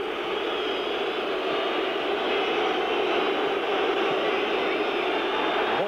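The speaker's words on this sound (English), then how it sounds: "It's the sound of Arsenal booing" Arsenal supporters boo in the stadium during the 2008/09 Arsenal vs Liverpool football match: a loud, steady crowd roar that fills the whole stretch without letting up.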